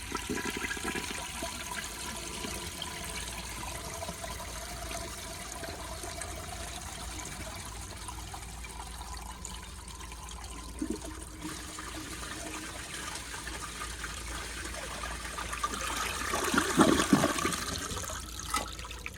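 A 1959 American Standard Master one-piece toilet flushes close by in a long, steady rush of water that swells near the end and then trickles down.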